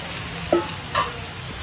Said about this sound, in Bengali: হালকা একটু জল দিয়ে ভালো করে কষিয়ে নেব